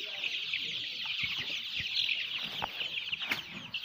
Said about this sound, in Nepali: हेर्नु पुरै तिर्खाएको छ कुखुराहरू, त्यही भएर यिनीहरू जुदी जुदी खाँदैछ है